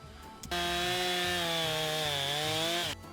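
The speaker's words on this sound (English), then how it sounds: "I jumped into carving a chainsaw chair in this piece of red oak" A chainsaw roars at a steady high pitch after a brief start, cutting continuously through red oak for a couple of seconds before cutting off, while carving a chair.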